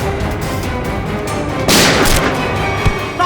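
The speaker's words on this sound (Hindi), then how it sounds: "अंदर से गोलियां चलने की आवाज आ रही है।" Gunfire inside a room of a haunted mansion bursts out loudly over a dense, rumbling background, with a sharp heavier blast near the middle and another thud near the end.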